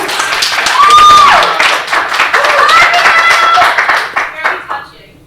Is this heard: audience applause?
yes